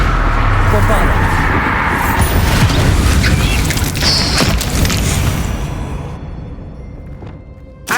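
A Bombarda spell explosion in Hogwarts Legacy produces a loud, close blast with a long rumbling, crackling tail that fades over several seconds, followed by a short thump near the end; a voice is heard amid it.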